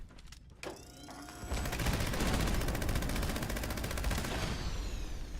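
Rapid automatic gunfire in the Fallout 76 video game, a dense, sustained rattle of shots after a brief lull, loud and continuous for several seconds, with clicking mechanical sounds near the start.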